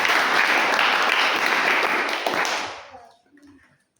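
Church congregation clapping for Jesus in a burst of dense, loud applause that holds steady for a couple of seconds, then quickly fades out into near silence.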